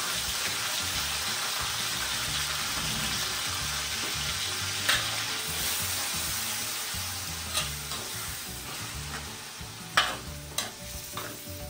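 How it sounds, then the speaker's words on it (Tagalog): Ground beef sizzles steadily in a hot pan, a dense continuous crackle with a few sharper pops near the end, heard up close and alone. "Ilalagay na natin yung ating giniling na baka"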